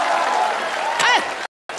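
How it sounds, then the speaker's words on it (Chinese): An audience at a crosstalk comedy show claps in a dense, sustained burst while a performer's voice briefly rises over it; the sound cuts out abruptly near the end before resuming. "鼓掌的全都发财了"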